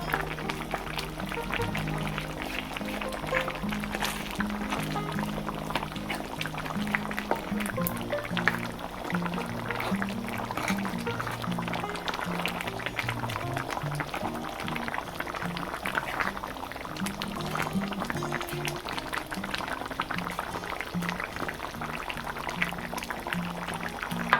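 Water is poured into a pot of beef tendon sinigang, a steady liquid wash with faint bubbling running continuously alongside a low background hum, with no one talking.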